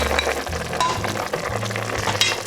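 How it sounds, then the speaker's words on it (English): Pieces of cod drop into a boiling Greek fish soup, giving a short burst of bubbling and splashing with a faint clink, close and alone. "After we get that back up to a boil, let's go ahead and add our cod."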